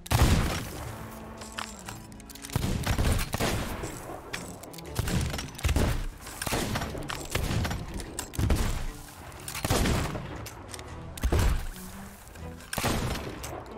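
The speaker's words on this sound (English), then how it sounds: "The fastest reload speed being the flintlock, followed by the blunderbuss, and then the slowest reload speed is the eye of reach." Sea of Thieves pirate weapons (flintlock pistol, blunderbuss and Eye of Reach rifle) fire a series of loud, sharp shots spaced a second or two apart, with quieter clicking and mechanical reload sounds between them.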